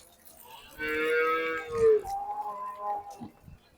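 Jersey cows at a livestock market for milking and pregnant cows: one close, drawn-out moo, then a second, lower, wavering call, with no talk.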